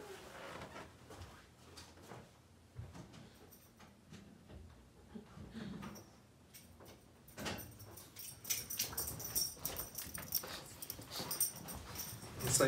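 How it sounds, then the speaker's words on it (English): A dog indoors whines and scratches at a door, with muffled rustles and small knocks that grow busier and louder toward the end, fairly faint and without clear barking. "I'm going to get my dog. He's barking at my door."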